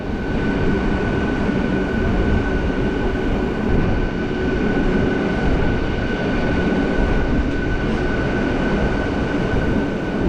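A local train from Howrah pulls into Digha station with a loud, continuous rumble of wheels on rail and a steady droning tone throughout, close by and without any voices.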